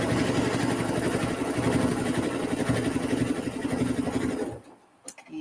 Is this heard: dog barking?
no